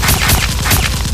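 Nerf guns fire in a rapid burst during an indoor mock firefight, loud close pops and clacks repeating several times a second with no talk.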